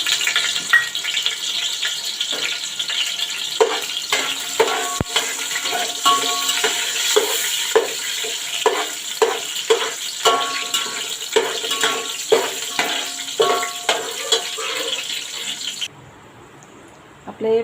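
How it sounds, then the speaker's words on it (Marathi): Cloves, black pepper and a piece of cinnamon fry in hot oil for a tempering, giving a steady close-up sizzle with scattered crackles and stirring clicks before the sound drops away near the end. "हे मी आता या फोडणीमध्ये तेलामध्ये घालणार आहे आपण ते चांगलं फ्राय परतून घेऊया"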